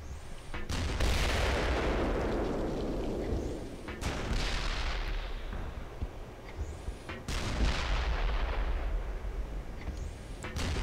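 Rocket explosions in the video game Black Mesa, two or three heavy booming blasts, each rolling off into a long rumbling decay, loud and close with no talking.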